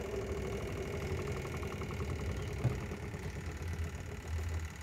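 The spin-dryer motor of a twin-tub washing machine runs steadily with a close, continuous droning hum and faint rhythmic rattle, brake disabled.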